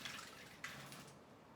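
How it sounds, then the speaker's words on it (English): A pet splashing around in water, a soft continuous wash of sloshing with a sharper splash partway through, fairly quiet and close, with no talking. "You are splashing all over the place, Carmela."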